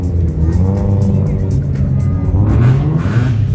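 A class N3 rally car pulls away at the start of a stage, its engine revving loud and close, with a commentator talking over it.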